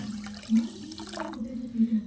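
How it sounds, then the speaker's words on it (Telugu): Water pours briefly into a pan of sugar to make syrup, a soft splashing trickle against a low steady hum. "కొప్పుడు పంచదారికి కొప్పుడు నీళ్ళు వేసుకొని"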